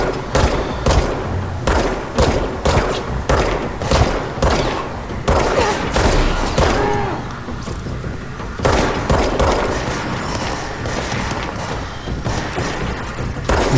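Repeated gunfire from the action video game Control, a rapid string of loud body shots in bursts separated by short gaps, with heavy low thumps and booming impacts throughout.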